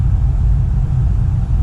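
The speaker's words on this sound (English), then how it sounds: "I'm actually recording in a basement and there's a furnace right beside me." A basement furnace runs continuously close by, a steady low rumbling drone with no pauses or talk over it.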